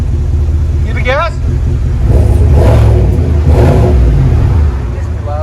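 2020 GMC Sierra AT4 with a 6.2L V8 and dual Flowmaster 40 Series exhaust revving, deep rumbling blips rising and falling close by, with people talking over it.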